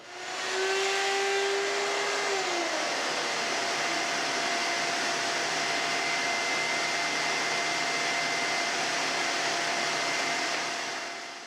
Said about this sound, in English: I started by setting the height of my router bit to cut the tongue profile on the rail pieces.